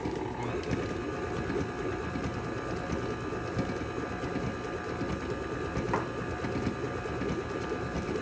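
An electric mixer beats cheesecake batter made with low-fat cream cheese, Greek yogurt and egg whites, a steady, dense whirring drone that holds level and close throughout.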